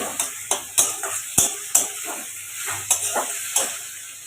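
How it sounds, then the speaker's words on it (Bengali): Soybean kofta balls deep frying in oil, heard as a faint sizzle under repeated sharp stirring scrapes and clinks of a utensil against the pan, coming at roughly regular intervals. "এবারে এগুলোকে লাল লাল করে ভেজে নেব"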